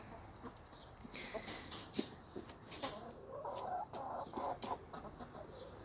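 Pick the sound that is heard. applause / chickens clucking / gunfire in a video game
chickens clucking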